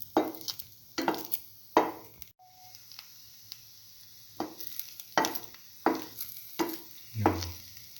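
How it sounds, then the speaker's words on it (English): Bread dipped in a chili, ginger and garlic mixture fries in a pan, with quiet sizzling punctuated by repeated scraping and stirring strokes in an irregular rhythm. "after dipping the bread in the mixture, put it into the pan to fry."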